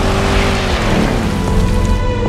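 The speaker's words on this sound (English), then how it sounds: "Mom, you're driving too fast." A car speeds along with a loud, steady engine and road roar, joined by a rumbling rush of rain or wind noise that fills the whole stretch without letting up.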